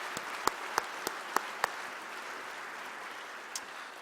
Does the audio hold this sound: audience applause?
yes